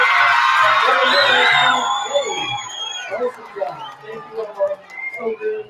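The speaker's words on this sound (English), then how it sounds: "give all of them a big hand, a round of applause" A crowd at an elementary school Black History show cheers and whoops loudly for the performers at first, then the noise fades into scattered yells and voices talking over it.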